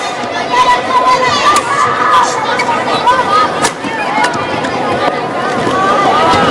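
Home crowd at a 2006 World Championship women's singles badminton match cheers and shouts loudly after the opening point, a dense continuous roar with excited voices over the top.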